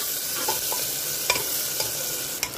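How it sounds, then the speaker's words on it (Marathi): Garlic and onion sautéing in a pan for a green peas curry, a steady soft sizzle with a few sharp scrapes of a stirring spoon, close and alone with no talk. "आता हे सगळं नीट परतवून घ्यायचं आहे"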